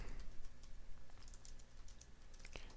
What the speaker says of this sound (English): So far I've just been typing and pressing enter